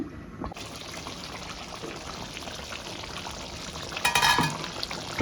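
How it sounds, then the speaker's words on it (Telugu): Eggplant and tomato curry cooks in a covered pan, giving a steady, soft bubbling and sizzling. A brief clink of the pan or lid comes near the end. "ఇంకొక పది నిమిషాలు అయితే ఇలాగే ఉడికించేద్దాము మూత మూసేసి"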